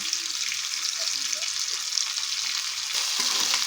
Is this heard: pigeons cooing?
no